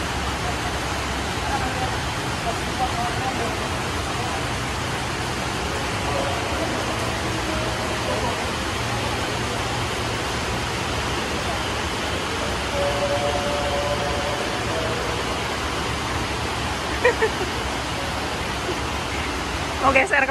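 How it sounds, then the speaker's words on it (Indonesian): Heavy rain pours aboard the passenger ship KM Dharma Kartika VII at sea, a dense, steady hiss of downpour lasting throughout, with a few faint knocks and people talking quietly in places. "Hujannya tambah deras guys."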